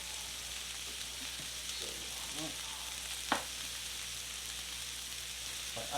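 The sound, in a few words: onions frying in a pan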